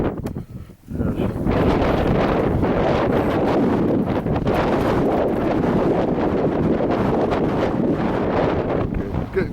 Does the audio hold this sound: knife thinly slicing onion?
no